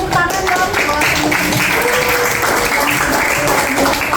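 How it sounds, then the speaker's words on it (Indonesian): Classroom applause from students after a presentation in an economics lesson on tempeh production; loud, close, busy clapping lasting a few seconds, with some voices mixed in. "Kita tepuk tangan dong."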